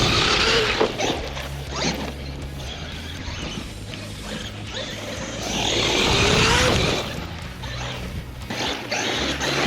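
A Traxxas Maxx RC car, widened WideMaxx build, runs at full throttle with a loud, sustained whining motor and drivetrain buzz that swells midway and stays close throughout, with no voices.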